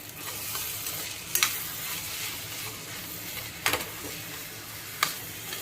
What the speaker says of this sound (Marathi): आता ही मोड आलेली मटकी आपण टाकणार आहोत कढईमध्ये